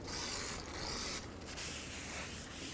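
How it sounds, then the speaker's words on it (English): A rag soaked in brake parts cleaner wipes across a brake rotor surface on a 2003-2021 Chevrolet Express 3500, making a short, soft, close rubbing sound with a faint hiss. "I can clean this surface here with some brake parts cleaner on a rag"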